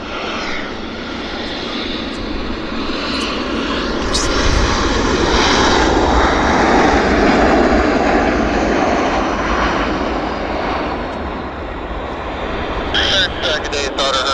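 An airliner on arrival at Vancouver after a long flight from Manila, its engines roaring loud and steady as it passes close, swelling in the middle and easing off, with faint radio chatter.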